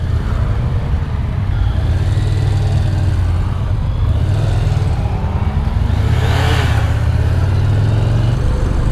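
Yamaha SCR 950 inline-twin motorcycle engine running steadily while riding, a loud continuous low drone with wind rush, no voices over it.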